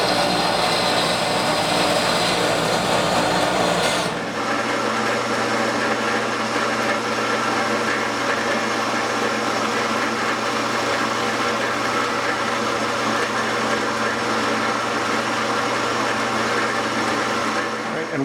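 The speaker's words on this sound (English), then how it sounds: "So I'm going to trim off a little bit here on the bandsaw" Aluminum and resin honey dipper blank being trimmed on a bandsaw, a loud steady broadband whine for about four seconds that cuts off abruptly, leaving a lower motor hum running to the end.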